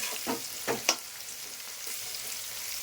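Potatoes with salt and turmeric fry in a pan while being stirred, a soft continuous sizzle broken by a few sharp scraping knocks of the spoon near the start, with no talking.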